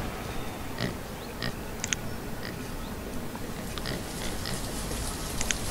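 Pigs oink and grunt softly in the farming game Banished, with a few faint snorts scattered over a steady ambient game background.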